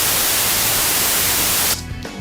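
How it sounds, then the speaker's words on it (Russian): Steady, loud broadband pink noise from a test signal generator used to set up a sound system, hissing evenly and then dropping abruptly to a quieter, thinner hiss near the end. "это розовый шум. В этот момент генерируется весь диапазон частот от 20 Гц до 20 кГц со случайными изменениями."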